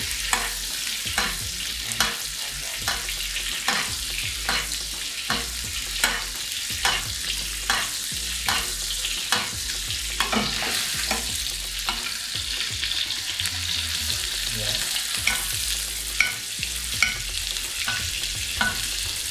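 A rack of lamb sizzles steadily in a pan as it cooks slowly while being basted. A constant loud frying hiss runs throughout, broken by regular soft clicks and spoon scrapes, and no one speaks.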